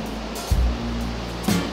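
Waves at Lhoknga beach in Aceh Besar, a steady close wash of surf with low rumbling swells rising twice, one just before the halfway point and one near the end, and no voices.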